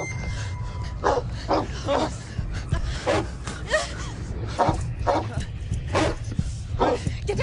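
A dog barks repeatedly in short, sharp bursts at an irregular rhythm, close and fairly loud, with whimpers and gasping breaths between the barks.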